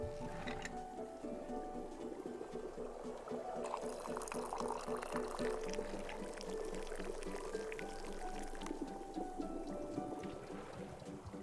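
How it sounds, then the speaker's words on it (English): Liquid pouring into a cup in the Wanderstop video game, a steady splashing, gurgling stream lasting several seconds that swells in the middle, close and clear over soft background music. "Pour any amount of it into the cup."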